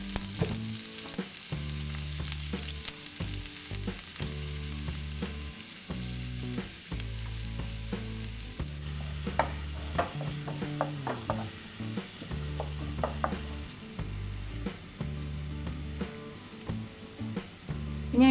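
Finely chopped medium onion frying in oil in a pan for an egg snack, a continuous close sizzle with occasional clicks, running under steady background music.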